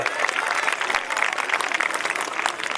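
An audience at a school event claps loudly to welcome a revered guest, a thick, continuous patter of many hands held at a steady level throughout.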